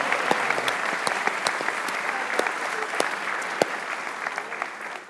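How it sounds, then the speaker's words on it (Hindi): Crowd applause breaks out in a steady, close patter of many hands with sharper individual claps popping through, continuing evenly without talk. "तालियां बजाइए पाकिस्तान की"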